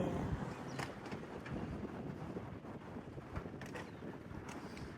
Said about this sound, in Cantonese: 有啲海風吹下都幾舒服